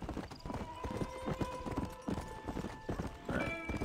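Horse hooves clip-clop steadily across open ground in the Red Dead Redemption video game, riding through New Austin near Independence Rock, with a rhythmic gallop, an occasional whinny and faint game music underneath.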